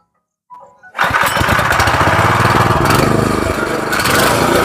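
A Kisan Mitro power tiller engine cranks briefly, then catches and runs loud and close with a steady, rough, rattling drone that continues to the end.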